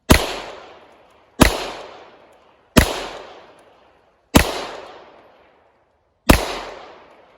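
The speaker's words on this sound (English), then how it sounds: "I'd say it shoots about the same for me as it did for you, Deric." A custom Sig Sauer P320 pistol fires five sharp shots, one every second or so, each crack loud and close with a fading echo tail, no talking.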